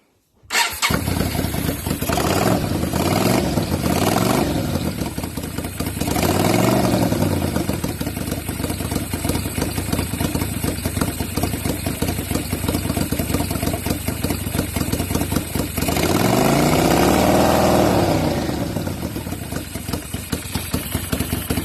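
Small engine idling just after a slight backfire during a test run, a loud steady chugging rumble close by, with two swells in revs partway through before settling back to idle.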